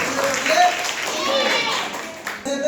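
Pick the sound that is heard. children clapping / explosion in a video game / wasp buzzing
children clapping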